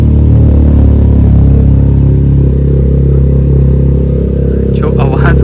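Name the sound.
three-cylinder car engine running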